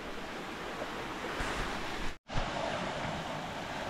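Steady rushing water from a small waterfall feeding a pond at the Aare falls, a broad continuous roar heard nearby, briefly cut out once and then resuming, with no talk.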